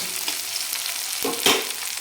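Onion and tomato sautéing in a pan for Maharashtrian jhunka, a steady soft sizzle with light stirring scrapes and a brief louder stir near the end.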